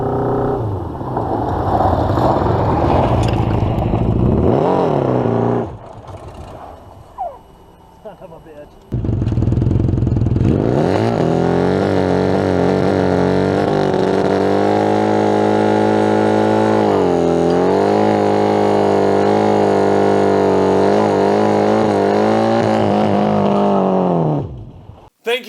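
A loud motorcycle engine with a sidecar attached roars and revs steadily for a long stretch, briefly dropping away before picking back up and running on until it cuts off.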